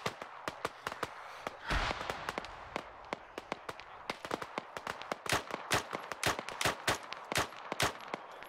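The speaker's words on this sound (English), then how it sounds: "We're getting shot up from the rear." Video game gunfire in a military operation, many sharp shots in irregular bursts, some close and loud, others fainter, with a brief rumble early on and no talk.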